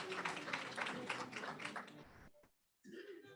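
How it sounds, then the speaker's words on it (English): A small group at a professorial inauguration ceremony claps briefly and softly for a couple of seconds before it cuts off, followed by a short voice. "I think we can give another round of applause"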